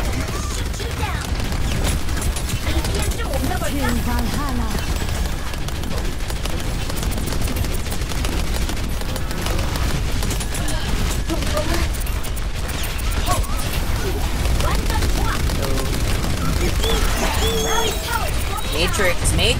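Dense, continuous gunfire and weapon effects from a competitive Overwatch match with D.Va, mixed with game noise throughout and a voice talking over the action.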